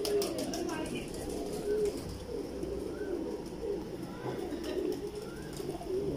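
Several pigeons coo softly and repeatedly nearby, low throaty calls over a steady background murmur, with occasional faint voices in the distance.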